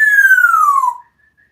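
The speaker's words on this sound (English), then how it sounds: "That's her celebration whistle." A pet parrot gives one clear, loud whistle that slides steadily downward in pitch for about a second, then stops abruptly, leaving near silence.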